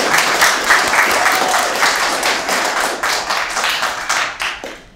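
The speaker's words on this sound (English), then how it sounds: "give everybody a round of applause" Applause from an audience after an undergraduate economics debate on a four-day workweek, a full, sustained round of clapping that stays loud throughout and tapers slightly at the very end.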